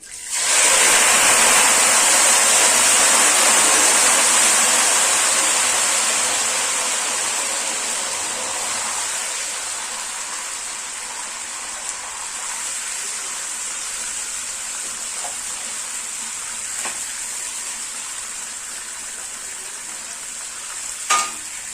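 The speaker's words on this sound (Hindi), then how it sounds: "गैस के फ्लेम को कम कर देते हैं और जो सिरका है हम इसमें डालते हैं।" Vinegar poured into a hot pan of garlic over a lowered gas flame erupts into a loud, dense sizzle that slowly fades to a softer, steady frying hiss with a few faint clinks, with no talking.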